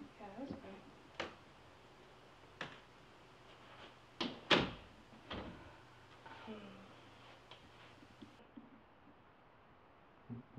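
An indoor door swings and shuts with a few soft knocks and one sharper thud, scattered across a quiet room with faint voices in the background.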